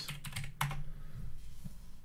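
Quiet clicking of a computer keyboard, a quick cluster of keystrokes at first and then a few scattered taps, close and soft.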